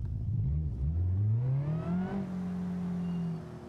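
The Ubaru car in the BeamNG driving game revs hard, its engine pitch climbing steadily over a couple of seconds, then holding a high steady drone before easing off at the end, loud and close with no talk.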